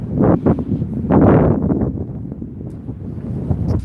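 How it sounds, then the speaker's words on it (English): Wind buffets a microphone on a seaside pier, making loud, low, rumbling gusts that rise and fall irregularly throughout. "The wind's calmed down a little bit."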